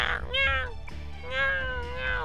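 A cat meows twice in Persona 2: Innocent Sin on PS1, drawn-out and tonal, close and clear over a faint low background hum.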